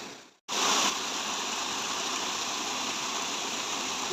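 Mountain spring water rushes in a dense, steady stream, close and loud, starting abruptly after a brief moment of silence.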